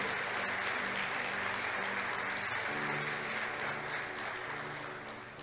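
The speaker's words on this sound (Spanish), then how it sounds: "fuerte el aplauso al que nos promete y cumple" A church congregation applauds during a Spanish-language sermon, steady dense clapping from many hands filling the room, with a low held musical tone underneath and the clapping thinning slightly toward the end.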